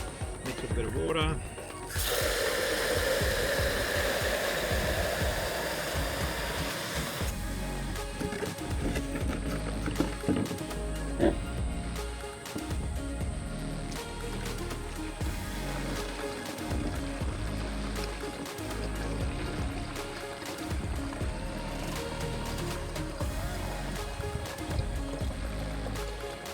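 Water sprays onto a Brisbane lawn while Booster Green product is applied, a hissing rush that starts abruptly and keeps going as a softer trickling spray, with quiet handling noises throughout.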